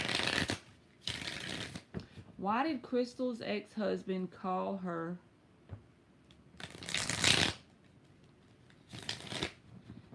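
Quick riffling bursts of tarot cards being shuffled, several separate rounds, with a person talking briefly in between.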